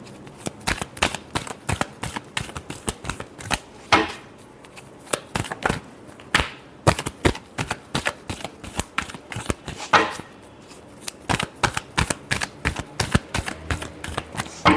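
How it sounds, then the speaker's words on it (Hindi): Tarot cards being shuffled in a steady run of crisp, rapid riffling bursts, close and fairly loud, with short pauses between flurries and no talking. "last shuffle"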